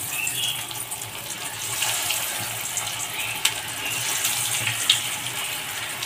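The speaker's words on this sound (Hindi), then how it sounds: "इसी तरीके से सभी को फ्राई कर लेते हैं।" Paneer cheese cutlets fry in hot oil, giving a steady, dense sizzle that continues evenly throughout with no voices.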